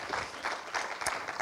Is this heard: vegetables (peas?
no